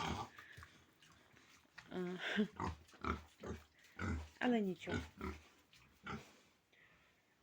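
Piglets grunt and squeal repeatedly up close, with snuffling and rustling between the bursts; a person speaks briefly among them.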